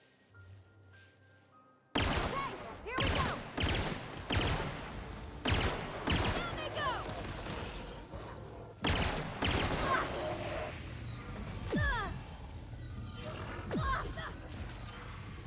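Pistol fire in a space-themed video game: a run of sharp, separate shots, some in quick pairs, over continuous game sound effects and music, with a voice speaking now and then.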